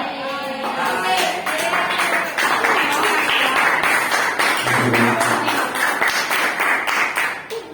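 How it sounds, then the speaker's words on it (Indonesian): A classroom of tenth-grade students claps and applauds, a dense, steady wash of many hands close by lasting several seconds, with some voices mixed in. "Oke, tepuk tangan."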